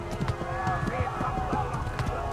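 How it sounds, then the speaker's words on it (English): Horse hooves clip-clopping at a gallop in the medieval video game Kingdom Come Deliverance, a steady rapid rhythm running under continuous speech and game music. "Okay, we're galloping."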